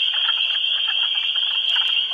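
Male wood frogs call in a dense, continuous chorus of rapid clucking croaks, loud and close, with no break.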